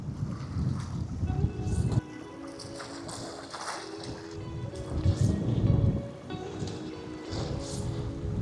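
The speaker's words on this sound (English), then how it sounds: "it's just too windy" Wind gusts across open water at Botany Bay during squid fishing, buffeting the microphone with a heavy low rumble that swells and drops in surges throughout, with faint knocks and splashy texture close by.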